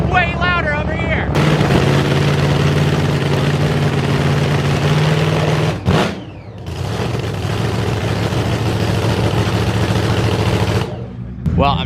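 Loud, roaring engine of a heavily tuned twin-turbo Nissan GT-R revving and idling up close, with a brief dip in the middle before the heavy rumble returns.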